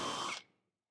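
A power drill briefly drives a self-tapping screw into the welded sheet-metal body of a 1940s Chevy during chop-top fabrication, a loud close whir lasting under half a second and then stopping abruptly.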